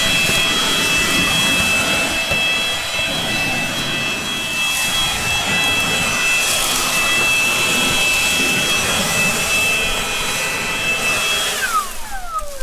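Old Allis-Chalmers M crawler dozer engine running after sitting for years, a loud, close, steady broadband roar that holds without a break for the whole stretch.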